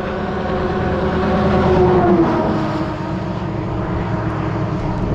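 Rail King railcar mover rolling on steel wheels, a loud, steady engine drone with a low rumble that holds constant throughout at close range.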